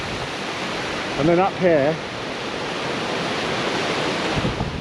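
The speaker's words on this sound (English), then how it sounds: "White water, technical term there" Rushing white water of a mountain stream below waterfalls on a hike toward the Trinnacle, a steady loud roar with wind buffeting the microphone and someone speaking briefly over it.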